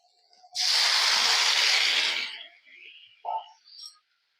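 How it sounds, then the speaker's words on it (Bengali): Water poured into a hot pan of sautéed jackfruit hisses loudly in a broad burst of about two seconds, then fades into softer sputtering with a couple of short pops. "আমাদের এঁচুড়টা কষানো হয়ে গেছে, এবার আমি জল দিয়ে দেবো"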